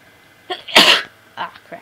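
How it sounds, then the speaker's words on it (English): A person gives a single loud, close sneeze preceded by a brief breathy intake, followed by short vocal sounds. "Oh god, I'm gonna sneeze."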